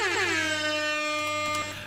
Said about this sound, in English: So I'm going to go straight to the air horn.